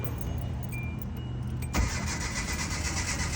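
A 2009 Hyundai Accent with a starting problem cranks on its starter, a loud, close mechanical churning that kicks in suddenly and keeps grinding without the engine catching.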